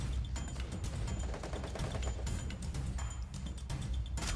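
Gunfire in the Free Fire video game sounds as rapid, repeated automatic shots in quick bursts, with mechanical clicks mixed in, steady and fairly quiet throughout.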